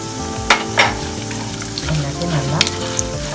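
Urad dal and chana dal roasting in a hot pan, a steady sizzle and crackle broken by a few sharp stirring scrapes and clinks near the start and again later, close and fairly loud, with no voices.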